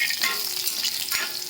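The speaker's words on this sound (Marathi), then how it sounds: "तळून झालेत बटाटे आता चांगले" Potatoes frying in oil in a pan for a spiced potato and fenugreek dish, giving a steady close crackling sizzle with scraping stirs throughout and no voices.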